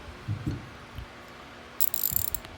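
A Snap-on ratchet wrench being turned, a few soft handling knocks followed by a short burst of fast, fine clicking near the end, close and moderately loud.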